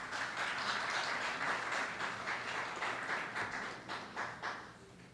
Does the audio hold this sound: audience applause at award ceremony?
yes